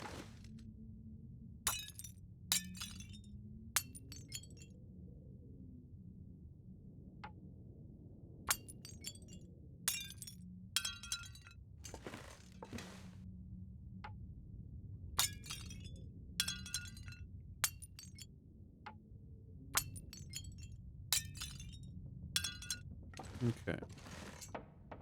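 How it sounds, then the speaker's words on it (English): Dishes being smashed on the ground in The Long Dark video game, a repeated series of sharp glass shatters and clinks spaced a second or two apart, with someone talking faintly between them. "you can see it's like just smashing the dishes on the ground."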